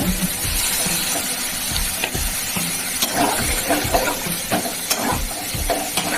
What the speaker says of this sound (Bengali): জলটা দিয়ে দিচ্ছি গরম